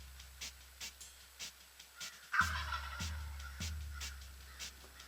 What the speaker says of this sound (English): those toms gobbled and gobbled and responded to our calls.